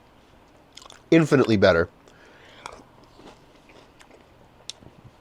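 Chewing of crunchy Kellogg's whole grain yellow corn-based cereal that has sat in milk: a loud, close burst of crunching bites lasting under a second, with a person talking quietly before and after.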